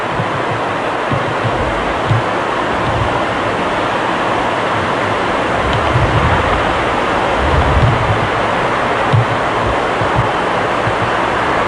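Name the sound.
ocean waves on a beach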